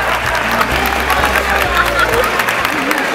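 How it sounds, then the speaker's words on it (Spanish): An audience applauds a prize winner at an anime convention in Coruña, with dense, continuous clapping and some crowd noise throughout as a presenter's voice carries over it. "¡Un aplauso!"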